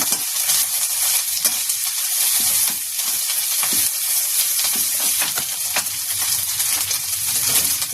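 Thai red curry paste frying on low heat: a dense, steady sizzle and crackle with repeated scraping and stirring strokes, close up and without talking.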